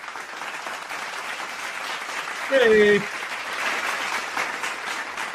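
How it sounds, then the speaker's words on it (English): Crowd clapping at a New York Yankees versus Kansas City Royals baseball game, applauding player Dominguez after a play. The steady, fairly loud applause runs through the whole stretch, and a brief voice calls out near the middle. "We're going to clap for Dominguez every time he makes a play."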